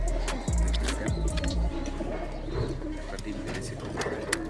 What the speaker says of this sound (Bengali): এখানে দেখতেছেন আপনারা গিরিবাজ জাতের কবুতর